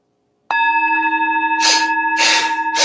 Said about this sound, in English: when you hear the tap of the bell,